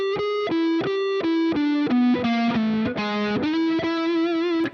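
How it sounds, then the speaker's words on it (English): Distorted electric guitar playing a blues lick with passing tones, a string of sustained single notes stepping through the phrase, loud and upfront with no voices. "Let's take another blues lick, maybe add some other passing tones to it."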